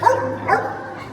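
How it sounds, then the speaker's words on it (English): A dog barks on a New York City street near the mall at Columbus Circle, two short close barks in quick succession with a trailing yip, heard alone with faint street ambience. "That was a dog was saying goodbye to all of you."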